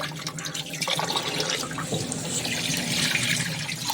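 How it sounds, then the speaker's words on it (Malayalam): Rice is washed under a running kitchen tap, the water rushing and splashing continuously and close, with grains and water swirling in a vessel and no speech. "ഈ അരി കഴുകിയിടണം"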